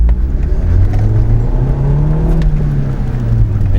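A car engine in first gear revs up toward 4,000 RPM, a loud, steady low drone that rises gradually and holds, with no talk.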